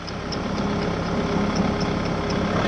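A Kubota tractor engine drives a rotavator, holding a loud, steady, close-up mechanical drone with a faint regular ticking throughout.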